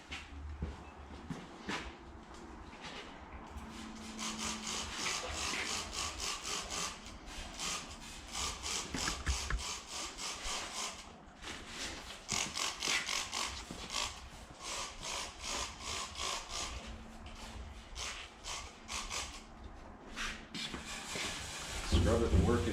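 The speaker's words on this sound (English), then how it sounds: "Scrub it and work it in, and then it's going to start eating its way into the rust" Rust treatment coating scrubbed into the inside of a motorcycle fuel tank, heard as steady, rhythmic back-and-forth rasping strokes close by for the whole stretch, with a voice talking at times.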